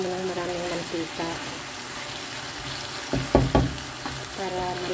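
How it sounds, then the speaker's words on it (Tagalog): Red chili sautéed in plenty of oil for an Indonesian dinner crackles and sizzles steadily up close, with a few louder spits and stirring clatters midway and faint voices in the background. "Kailangan igisa mo ng maraming mantika."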